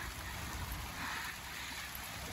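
Heavy rain pours down steadily at a resthouse during strong winds, a dense, continuous hiss close by with no break for the whole moment.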